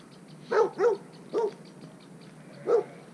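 A dog barks four times outdoors, two quick barks, a third after a short pause, then a final one after a longer gap.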